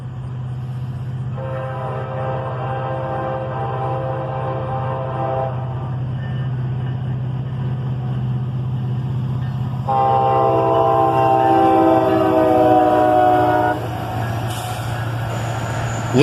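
A northbound CSX freight train led by an SD50-3 locomotive, rebuilt from a Louisville and Nashville SD40-2, rumbles past with a deep steady engine drone and sounds two long, loud horn blasts.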